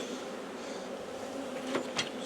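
Honeybees buzzing around an open hive in a bee yard, a continuous faint drone with a couple of brief closer passes near the end.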